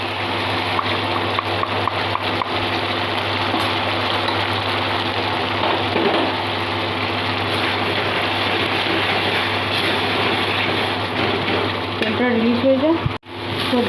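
Onion, ginger and garlic paste sautés in hot oil in a pan, giving a steady, close sizzle that runs continuously, ending in a brief clatter and a sudden stop.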